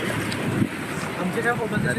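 Sea waves wash steadily against the shore, a dense continuous roar mixed with wind buffeting the microphone, with faint voices in the background.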